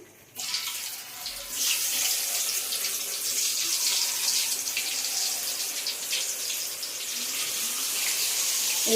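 Lotus root pieces dropped into hot oil for lotus root 65, a steady loud hiss and sizzle of frying that holds throughout after a sharp onset.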